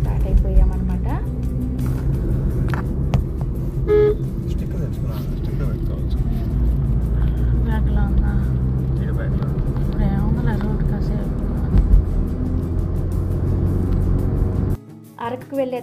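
A car carries passengers by road from Vizag toward Araku, its steady engine and road rumble droning throughout, with a sudden drop near the end, while people talk over it.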